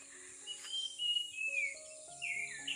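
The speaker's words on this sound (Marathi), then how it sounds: "पक्ष्यांचे आवाज बघ किती छान येतात" Several birds sing and chirp in short bright phrases against a steady high hiss, calls trading back and forth at moderate distance.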